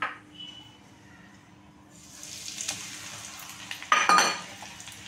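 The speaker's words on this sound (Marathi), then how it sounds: "आता आपण तेल तापलं ना त्यामध्ये टाकणार आहोत।" Asafoetida dropped into hot oil in a home kitchen pan gives a sudden loud sizzle burst near the end, after quieter kitchen sounds and light clinks.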